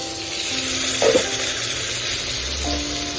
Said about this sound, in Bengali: নাড়াচাড়া করে দিই